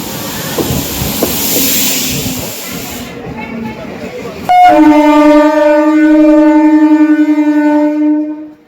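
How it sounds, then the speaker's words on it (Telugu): A train pulls in at a railway platform with a rushing hiss of brakes and rolling noise, then a loud, steady, harmonic horn blast rings out close by. "ట్రైన్ అయితే వచ్చేస్తుంది, మనకి దగ్గరలో ఉంది"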